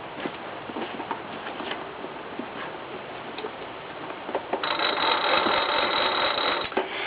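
Hand crank of a Netherlands TA-3017 field phone turned to ring, giving a steady rapid ticking whir that grows louder and denser partway through, sounding band-limited and with no one talking.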